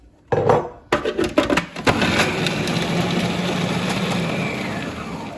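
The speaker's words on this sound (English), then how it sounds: "in a food processor, I'm going to chop these onions up" Onions being chopped in a food processor: a few sharp clattering knocks, then a steady, loud whirring grind that runs on without a break to the end.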